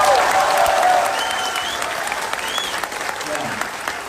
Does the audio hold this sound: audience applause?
yes